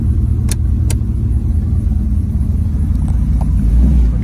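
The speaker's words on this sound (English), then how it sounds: "We'll get through some gravel real slowly and then we'll hit the pavement up here." A 1932 Chevrolet all-steel rumble seat roadster rolls slowly over gravel, its engine a steady loud low rumble close by, with a couple of sharp clicks and faint crunches on top.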